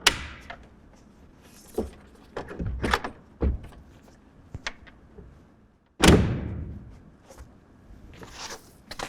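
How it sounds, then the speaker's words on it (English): Hard panels of a RealTruck BAKFlip MX4 folding tonneau cover on a 2024 Toyota pickup fold back toward the tailgate, making close, loud thunks and clatters, with one heavy thud partway through and light rattles between. "one panel at a time, we're going to fold it back towards the tailgate"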